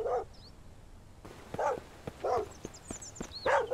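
A dog in a video game barks several times in short, sharp bursts spread across the moment, at moderate loudness with no talking over it.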